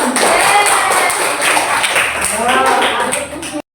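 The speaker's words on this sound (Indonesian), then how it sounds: "Tepuk tangan." Children in a primary school classroom clap their hands in a brief round of close, busy claps, with voices mixed in, before stopping abruptly.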